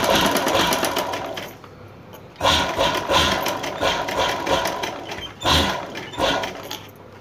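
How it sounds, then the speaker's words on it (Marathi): A sewing machine stitches half-inch tucks into a one-piece dress made from an old patchwork embroidered sari. It runs close and loud in fast rhythmic bursts, with short pauses and slowdowns between runs. "अर्धा इंच रुंदी आणि 5 इंच लांबी असे आपण दोन्ही बाजूला टक्स मारून घ्यायचे आहेत"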